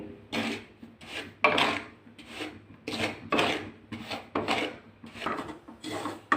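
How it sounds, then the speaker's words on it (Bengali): Dry semolina stirred in a dry pan to a light brown, giving a rhythmic scraping rasp of spoon against pan, repeated strokes about twice a second, close and fairly loud. "সুজিটা আমি এইভাবে ভেজে নেব"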